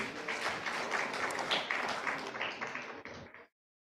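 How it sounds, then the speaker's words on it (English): Audience applause at the close of a session at a disability inclusion conference in India, a steady dense patter of many hands for about three seconds that fades and stops abruptly. "Can we have a round of applause,"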